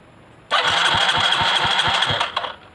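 A Yamaha Mio Soul GT scooter with a fault that leaves it dead is cranked on its electric starter, a loud steady whirring with a fast rhythmic chug for about two seconds that stops without the engine catching.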